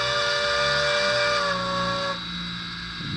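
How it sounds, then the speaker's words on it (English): A steam locomotive whistle from a model sound decoder blows one long, loud, sustained blast with a breathy hiss, then cuts off, leaving a softer hiss. "Then we'll do the long horn."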